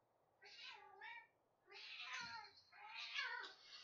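A cat meows close by three times, each call drawn out and rising and falling, with short pauses between them.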